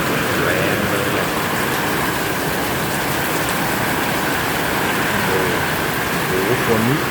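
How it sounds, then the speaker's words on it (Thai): Heavy rain and strong wind batter the area during a night storm in Udon Thani, a dense, constant close rushing hiss with faint tonal sounds drifting underneath. "ฝนพัดมาถึงเนี่ยตายละโอ้โหลมแรงมากเนี่ย"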